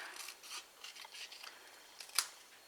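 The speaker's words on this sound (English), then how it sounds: "for this piece I'm going to cut this in half lengthwise" Scissors cutting craft material in half lengthwise for a small Yankee-style candle box, a series of quiet close snips and rustles ending in a sharper final cut.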